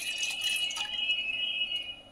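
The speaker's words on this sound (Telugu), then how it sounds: "ఒక గిలాసు వాటర్ పోసుకుంటాను." Water is poured from a glass for making lemon tea, a steady close trickle with a few brief splashes over a little more than two seconds.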